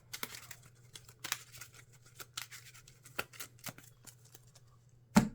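Marvel Champions cards are shuffled into a deck with soft, close riffles and card snaps, irregular and quiet over a low steady hum.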